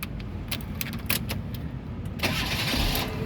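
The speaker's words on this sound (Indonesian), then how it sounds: "nah sekarang kita coba nyalakan mobil" A 2010 Kia Picanto 1.1 starts up after some faint clicks, the engine catching and settling into a steady idle near the end, close by.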